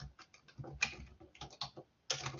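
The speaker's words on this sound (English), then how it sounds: "I will type my email address here." Typing on a computer keyboard to enter an email address, with quick bursts of key clicks and short pauses in between, close and fairly clear.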